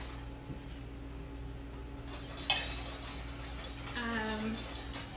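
A whisk stirs a butter, flour and milk sauce in a pan, a soft scraping and stirring with a light clink midway and a quiet low sizzle beneath, while a voice talks briefly near the end.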